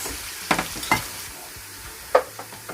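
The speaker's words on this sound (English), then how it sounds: "Then I'm going to stir it." Nigerian fried rice seasoned with thyme, curry powder and all-purpose seasoning is stirred in a pot: a low steady sizzle with three or four distinct spoon scrapes and clinks, close and unaccompanied by voices.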